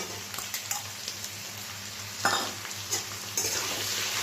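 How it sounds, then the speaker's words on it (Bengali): Chopped onion fries with potatoes in a pan, a quiet, steady sizzle broken by several sharp scrapes and clicks of stirring, with no voices. "এবার এই কুচনো পেঁয়াজটা দিয়ে দিলাম।"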